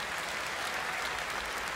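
Steady, dense applause from a large concert audience at a televised Russian-language pop benefit show, a continuous wash of clapping with no breaks, heard alone.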